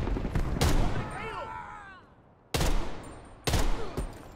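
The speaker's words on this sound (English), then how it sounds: "This is a nice-ass gun. Type 63, beautiful." Type 63 rifle gunfire in the Call of Duty: Cold War campaign, several sharp loud shots in quick bursts with ringing tails, one spaced pause between them, no talk in between.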